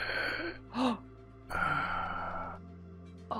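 A voice imitates ragged breathing with two long, rough, hoarse exhales separated by a short sharp gasping intake, close and fairly loud, ending in a tiny catch of breath.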